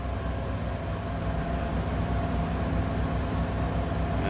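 A 1991 Cadillac Coupe DeVille engine running at idle, heard from behind the car as a steady, smooth, even hum with no breaks.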